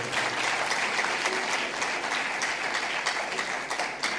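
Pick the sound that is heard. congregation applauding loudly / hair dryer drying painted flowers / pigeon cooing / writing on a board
congregation applauding loudly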